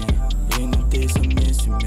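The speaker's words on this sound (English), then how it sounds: "The second one is trap music," Trap music plays loud and continuous, with booming sub-bass 808 notes and sharp percussive hits landing roughly every third of a second, no voices over it.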